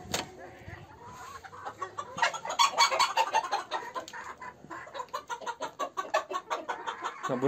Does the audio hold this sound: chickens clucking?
yes